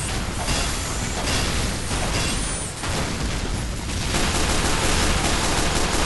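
Rapid automatic fire from an Engineer's sentry gun in Team Fortress 2 rattles on steadily and loudly for several seconds, dense and continuous, with a brief dip partway through.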